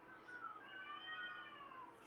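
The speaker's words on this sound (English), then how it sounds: "those are stray cats outside" Stray cats howl outside, a faint, drawn-out wavering yowl heard from a distance behind quiet room tone.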